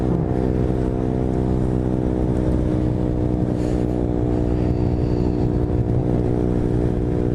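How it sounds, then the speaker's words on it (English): A KTM RC125 motorcycle exhaust drones steadily at close range, a constant buzzing engine note with no pauses. "I think that exhaust's getting a bit annoying to me"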